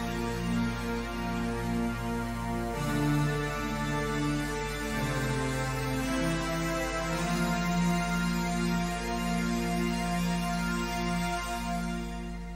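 Synth melody for Warframe played live on an analog keyboard, unprocessed: sustained harmonic tones shift pitch steadily over a constant low drone, filling the whole passage at an even, moderate level with no voices.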